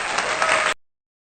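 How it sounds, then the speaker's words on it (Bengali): Applause for a contestant standing in a box during a blindfolded food game, a dense burst of clapping that holds steady for under a second and then cuts off abruptly into silence. "তার জন্য ধরে হাততালি"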